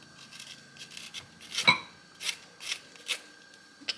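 An orange rasps against a handheld zester in a series of short, dry scraping strokes, close and fairly quiet, with one sharper clink partway through.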